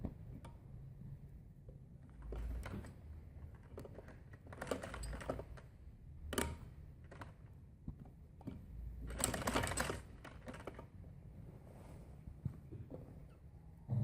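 Sewing machine stitching a button placket on a frock, short bursts of quiet mechanical clatter in a fairly still room.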